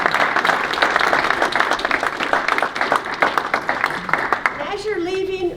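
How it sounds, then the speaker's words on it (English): An audience claps at the end of a lecture, dense steady applause from a room full of people that thins out toward the end as a voice begins. "Can we give a round of applause?"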